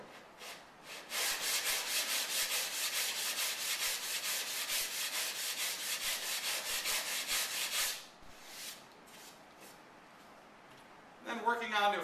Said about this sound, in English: You can use any old piece of scrap wood to back up your sandpaper.